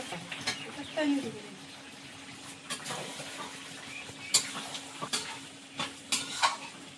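Mutton frying in a pan while being stirred, with soft sizzling under scattered scraping and clinks of a spatula, close and fairly quiet, plus a faint steady hum in the background.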